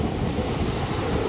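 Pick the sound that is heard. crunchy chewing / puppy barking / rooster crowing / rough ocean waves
rough ocean waves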